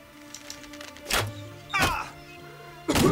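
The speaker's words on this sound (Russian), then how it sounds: "А тут выстрелим." Shots and hits landing in the Battle Brothers video game, with three sharp, separate thwacks spaced about a second apart over quiet background tones.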